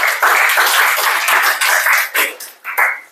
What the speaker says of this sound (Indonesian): tepuk tangan untuk Bri